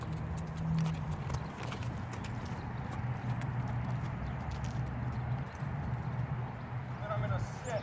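A BLM mustang mare trotting under a rider, her hooves making a steady, rhythmic clip-clop at moderate distance. Someone talks over the hoofbeats.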